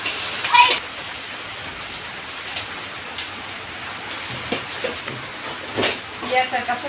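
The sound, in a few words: rain falling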